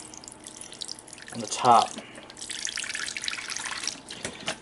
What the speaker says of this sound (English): Fill up his water dish.